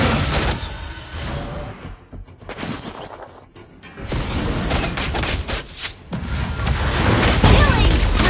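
A turret being destroyed in Mobile Legends brings loud bursts of crashing, booming impacts and rapid fire-like cracks, with a brief lull in the middle before the dense blasts resume. Announcer-style voices break in over the action.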